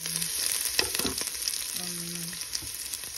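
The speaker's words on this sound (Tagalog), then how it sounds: "Ngayon nag-isa natin yung sibuyas, bawang at saka luya guys." Onion, garlic and ginger sauté in a pan for a Filipino ginataang tilapia dish, giving a steady close hiss and sizzle with a few stirring scrapes and short tonal beeps.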